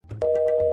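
A telephone call tone in a Hindi comedy skit: a brief low hum, then one steady, loud electronic tone holding unbroken to the end, with no talking over it.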